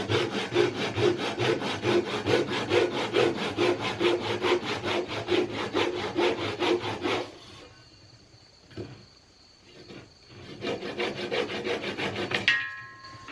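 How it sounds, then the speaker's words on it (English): A Japanese pull saw cuts wood at a steep angle, trimming a pocket hole plug, in fast, steady rasping strokes, then pauses with a few scattered scrapes before sawing resumes briefly. "I like the Japanese pull saw here. Go up under the work and you start sawing that off"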